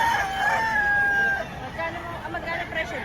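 A rooster crows loudly and close for about a second and a half at a busy chicken market in Lipa, Batangas, with crowd babble and other fowl clucking around it.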